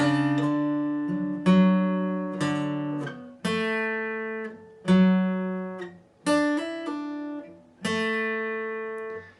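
A guitar picks a song intro slowly, one note or small group at a time, about eight spaced attacks each left to ring and decay, close and clean, alone without talk.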